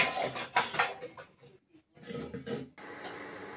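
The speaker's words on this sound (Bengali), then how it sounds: "সব পাউরুটিগুলো প্রথমে সেঁকে নিয়েছি, তারপর বাটার পাউরুটির মধ্যে মেখে নিচ্ছি।" A knife scrapes butter across slices of toasted bread in a home kitchen, giving short, dry rasping strokes in a few bursts with brief pauses between them, close and fairly quiet.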